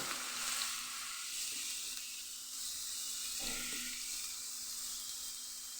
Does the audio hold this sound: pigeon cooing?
no